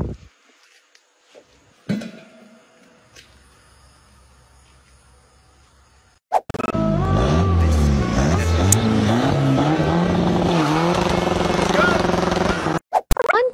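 Diesel engine of a Volkswagen Jetta TDI with a hoodstack revs hard, a loud close roar with rising and falling pitch sweeps that runs for about seven seconds after a quieter stretch and ends abruptly.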